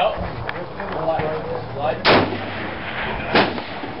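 Rifle shots from a .30-06 bolt action or a .22 lever action, two sharp loud cracks about a second apart, heard outdoors with people talking around them.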